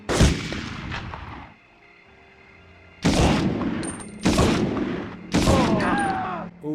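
Enemy soldiers fire guns in a World War II shooter game, sharp cracks and bursts arriving in three loud clusters after a quieter opening, with layered echoing shots and debris between them.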